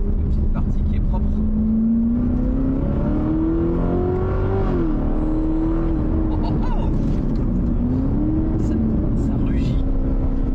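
A Corvette C7 ZR1 engine roars and revs continuously from inside the car, the pitch rising and dropping with gear changes, loud and close, with a voice talking over it.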